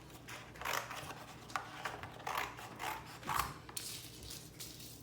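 Scissors snip through cereal box cardboard, cutting it in half for a homemade weaving loom; a series of crisp, close cuts and rubs come in irregular bursts, quiet and alone.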